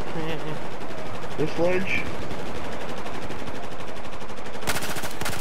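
Rapid automatic gunfire in Battlefield 4, a loud sustained rattle of shots running under brief player chatter, with a sharper burst near the end.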